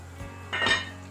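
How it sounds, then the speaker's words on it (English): A metal lid is set onto a cooking pot of boiling chicken turned down to low heat, making one short clatter and ring close by over a faint steady hum. "once it's boiling, reduce the heat down to low and cover your pot"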